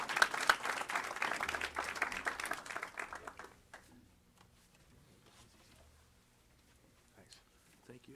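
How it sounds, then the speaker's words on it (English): A round of applause rings out in a city council chamber, dense clapping for the first few seconds that thins and fades out by about four seconds, followed by quiet room sound with a few stray noises. "Another round of applause."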